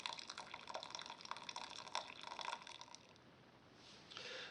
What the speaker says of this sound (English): Carefully pour off the hot carrot water and reserve that for later.